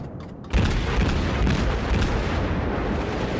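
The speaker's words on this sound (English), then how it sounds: "Whoa, who is shooting at me?" Gunfire striking near the player's ship in the World of Warships naval game, a sudden heavy boom after a brief quiet moment, followed by a sustained low rumbling roar of shell impacts and explosions.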